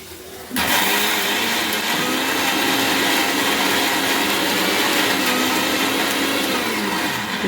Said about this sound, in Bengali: এরপর আমি এটা দেখুন মিক্সারের সাহায্যে মিহি করে গ্রাইন্ড করে নিচ্ছি